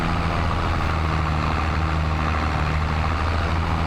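Farming Simulator tractor engine driving in a steady low idling drone with a deep hum, continuous and fairly loud, no talk over it.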